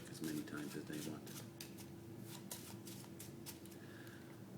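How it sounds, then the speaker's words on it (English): A deck of playing cards being shuffled by hand, with repeated crisp riffling bursts and flicks close up, while a person talks over the shuffling. "they can shuffle the deck as many times as they want."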